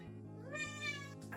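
A small pet cat gives a single drawn-out meow that rises and falls, soft and close, with no one speaking.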